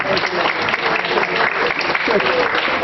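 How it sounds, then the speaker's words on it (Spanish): Dense audience applause at a university Rights Day event, many hands clapping steadily and loudly throughout, with a faint murmur of crowd voices beneath. "Un aplauso, por favor"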